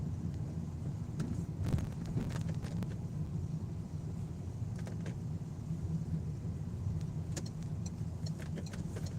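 A blue bus passes on a street in Wrocław: a steady low engine rumble with tyre and road noise holds at an even level throughout, with some wind buffeting on the microphone.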